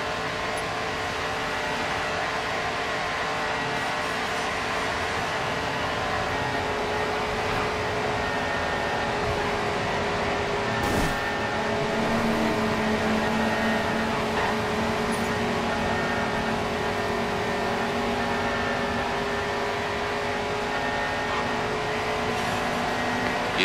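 A Ford Mustang Mach 1 Twister Special races at sustained high speed in GRID 2, its engine holding a loud, steady drone with a brief gear-change blip around the middle.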